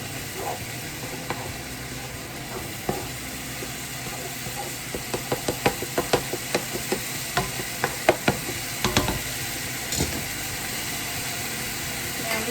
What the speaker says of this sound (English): We're going to stir that just a little bit before we add in the rest of our seasonings.